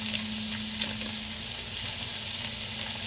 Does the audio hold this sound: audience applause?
no